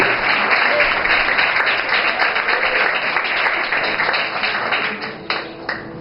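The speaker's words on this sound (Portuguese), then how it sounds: "Então aplauda ele bem forte, em nome de Jesus." A church congregation at a youth service applauds loudly in a dense, sustained wash of clapping that tapers off toward the end, with faint voices mixed in.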